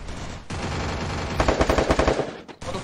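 Rapid automatic gunfire from the Free Fire mobile battle royale game: a loud, close burst of repeated shots in quick rhythm, with some single shots before and after, and no speech.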